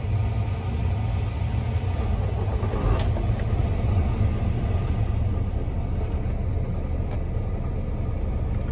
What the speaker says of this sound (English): Let's get it fired up.